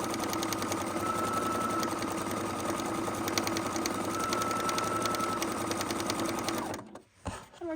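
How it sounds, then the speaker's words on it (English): A Husqvarna Lightning sewing machine stitches across a lined tote bag with gussets, a loud, even mechanical hum with a fine rapid rhythm that runs for several seconds and then cuts off. "we're stitching it to where the part that we turned up is going to be locked in with the stitches"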